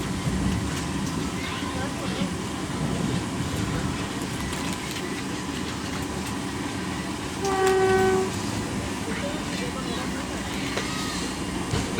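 A train nears Talcher Road station with a constant rolling rumble and rattle of carriages from inside, broken by a short, clear horn toot midway.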